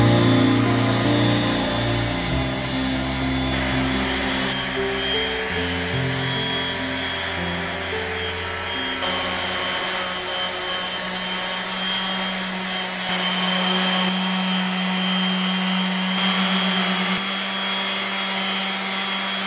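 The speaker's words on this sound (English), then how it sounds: "I'm going to pull out my random orbital and hook it up to my Festool dust collector." A random orbital sander connected to a Festool dust collector runs steadily and loudly, a continuous whirring hum with vacuum roar, close and unbroken for the whole stretch with no talk.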